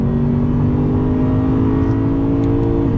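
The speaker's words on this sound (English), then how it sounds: "Let me downshift again. 2nd gear. On throttle." A 2020 Lexus RC F with an 8-speed automatic accelerating hard in 2nd gear after a downshift, a loud steady engine drone rising slightly in pitch throughout, heard from inside the car.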